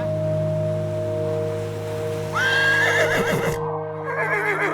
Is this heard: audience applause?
no